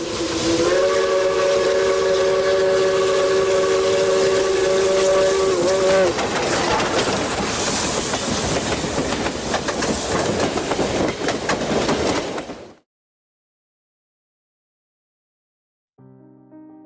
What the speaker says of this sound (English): hear the thunder and the roar of their state steam locomotive